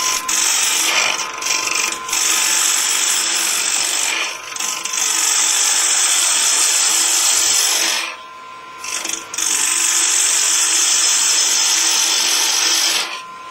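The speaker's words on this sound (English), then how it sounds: "Then I'll bring the tool rest around, and I'll use a 3/8 inch bowl gouge" A wood lathe spins while a 3/8 inch bowl gouge cuts the face of a hollow form, giving a loud, continuous scraping whine that briefly dips twice as the tool lifts off.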